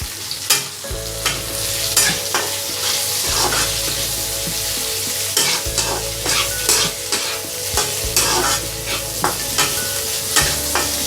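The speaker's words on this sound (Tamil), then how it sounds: "இப்போ இந்த வெங்காயம் வந்து நல்லா கோல்டன் ப்ரௌன் கலரில் வரணும், அது வரைக்கும் நம்ம வந்து வதக்கணும்." Small onions sautéed with chillies and garlic in a pan for Pallipalayam chicken, stirred in repeated scraping strokes over a steady close sizzle, with no talking.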